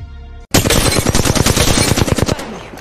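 A rapid burst of automatic gunfire from the Apex Legends video game rattles loudly and close for about two seconds after a brief quiet start, standing alone without speech.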